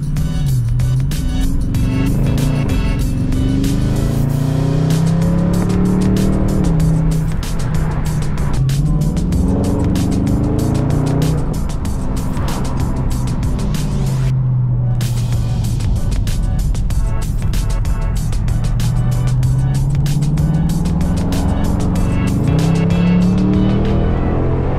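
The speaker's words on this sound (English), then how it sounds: "The little crackle pop." Loud 2020 Dodge Charger Scat Pack with a muffler delete, its exhaust rising and falling through repeated revs with sharp crackles and pops, steady and close, no talking.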